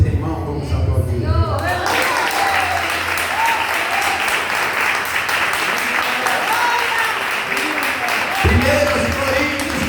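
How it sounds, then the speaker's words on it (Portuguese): A church congregation claps loudly and continuously, a dense sustained wall of applause filling the room, with a voice briefly audible before it builds. "Se você tem mão, vamos aplaudir."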